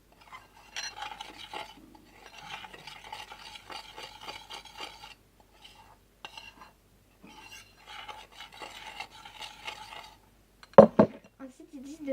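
Salt dough being mixed in a bowl, with repeated scraping and clinking strokes in bursts, a short pause midway, and a sharper knock near the end.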